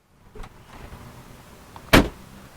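A quiet motor whir from a 2007 Ford Taurus power window, ending in a sharp thunk as the window seats, with no talking.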